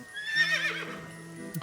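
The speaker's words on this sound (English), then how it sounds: "This is indeed a horse." A merry-go-round horse in the video game AI: The Somnium Files lets out a single close, clear whinny that rises and then trails off, with a faint clip-clop of hooves under it.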